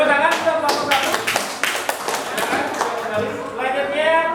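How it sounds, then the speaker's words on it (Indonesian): Students in a classroom clap for a presenting group, a brief burst of scattered, uneven claps with some taps and voices mixed in. "Oke, tepuk tangan untuk kelompok 1."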